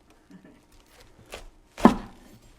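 A knife cuts through cabbage on a board, a few soft, isolated chops ending in one sharper, louder crunch, close and quiet in between.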